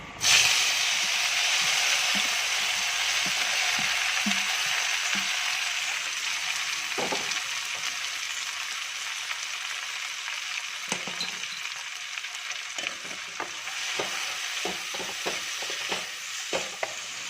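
Hummingbird flowers stir-fried in a pan as a vegetable thoran, with a constant hissing sizzle throughout and, later on, a series of clicking scrapes from a spoon stirring the pan.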